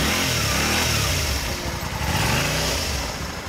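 A 2006 Kawasaki Eliminator 250V V-twin motorcycle engine running steadily at close range, a dense continuous rumble with slight rises in revs and no talk over it.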